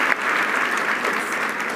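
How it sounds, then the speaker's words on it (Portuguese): A live audience at a Brazilian talk event claps in a dense, continuous wash of applause, loud and sustained throughout without speech on top. "Aplausos!"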